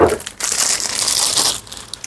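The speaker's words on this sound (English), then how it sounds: "Okay, remove this plastic." Plastic wrapping crinkles and crumples as it is pulled off a new Wmark NG 2054A hair trimmer, close and fairly loud, in a steady two-second burst after a brief opening rustle.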